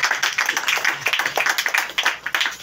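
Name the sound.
congregation clapping to acclaim God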